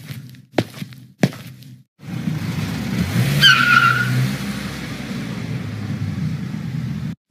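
A car drives with a steady engine rumble and road noise, with a brief tire skid squeal partway through, after a couple of short thumps at the start; no talking.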